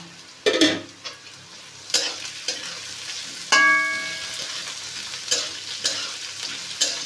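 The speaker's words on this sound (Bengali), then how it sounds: "এবারে পেঁয়াজ, রসুন কুচি, আদা কুচি, লঙ্কা কুচি দিয়ে দিলাম।" Chopped onion, garlic, ginger and green chilli frying in a pan with potatoes, a bright sizzle broken by repeated close spoon scrapes and clacks, including one ringing metallic clink.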